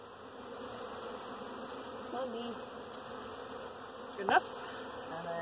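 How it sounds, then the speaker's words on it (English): Honeybees from a package pour into a new hive, a dense, steady buzzing swarm close by throughout, with a single short spoken word near the end. "That is a lot of bees."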